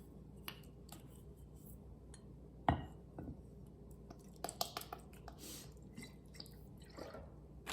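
Fish sauce poured into a mortar while making papaya salad, with soft liquid drips and small splashes and a sharper clink of a bottle against the bowl.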